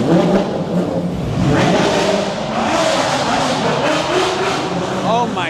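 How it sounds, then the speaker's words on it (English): Several Porsche GT3 RS sports cars rev their engines on a street lined with buildings, the loud, continuous engine roar echoing and reverberating throughout, with crowd noise and voices mixed in at a car festival. "The reverberation of these GT3 RSs off of the buildings is insane."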